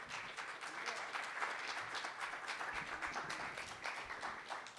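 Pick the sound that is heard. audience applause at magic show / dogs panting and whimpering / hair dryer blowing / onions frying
audience applause at magic show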